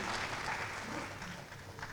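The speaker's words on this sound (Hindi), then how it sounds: "हमें तालियां बजानी चाहिए" Audience applause at an awards ceremony, a steady dense wash of clapping filling the hall for the full two seconds, with no voices over it.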